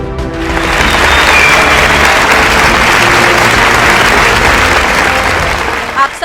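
At a school speech and national song competition for Pakistan Independence Day, the audience welcomes the three judges with loud, sustained applause that swells in and holds for about six seconds, close and full, without speech.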